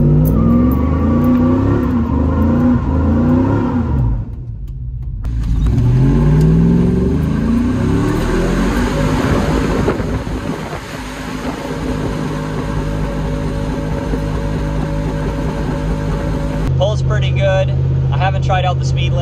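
A freshly tuned truck's engine roars loud and close, revving up and down with a rough growl that dips briefly then builds again, with a voice talking over it.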